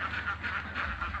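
A few ducks at a village duck pen near rice fields give steady, rhythmic quacks, close and moderately loud, repeating throughout with no talk over them.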